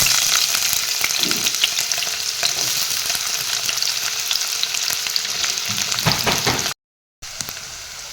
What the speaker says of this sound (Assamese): ইয়াতে এতিয়া মই প্ৰথমতে পিঁয়াজখিনি দি লওঁ।